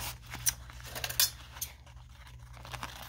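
Scissors snip through playing cards several times in quick, uneven cuts, close and fairly quiet over a low background hum.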